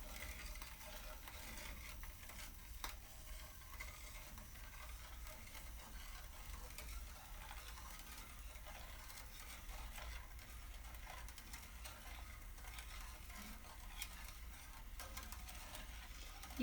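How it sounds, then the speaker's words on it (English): Soda ash soak solution being stirred with a wire whisk, giving a faint, continuous crackling and fizzing texture with light scraping throughout. "You can hear it popping and cracking."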